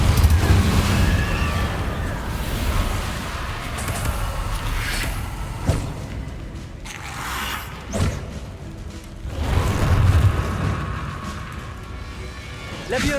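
Spell effects from casting Depulso in Hogwarts Legacy, a few forceful whooshing thumps and bursts over steady game ambience, with a voice calling out the spell names.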